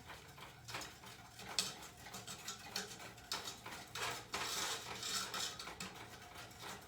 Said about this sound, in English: I whisk. Just whisk all that in there.